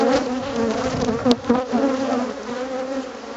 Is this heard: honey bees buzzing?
yes